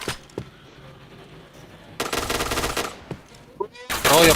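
Gunfire in a shooting video game: a single shot and a few isolated cracks, then a sustained automatic burst, more scattered shots and a loud closing burst, near and prominent.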